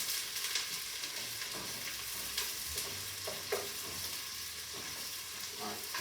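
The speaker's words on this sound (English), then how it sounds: "I'm chopping up garlic and onion finally. I've got the oil heating up. I'm going to put that in the oil." Chopped garlic and onion sizzle in hot oil in a pan, a steady, fairly quiet frying hiss broken by occasional crackles and soft stirring knocks.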